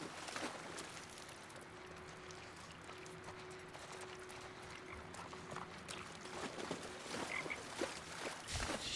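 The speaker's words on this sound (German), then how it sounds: "Ich höre irgendwo einen Frosch quaken." A frog croaks faintly in a quiet outdoor scene in the video game The Last of Us Part II, with a low steady tone and scattered soft ambient sounds around it.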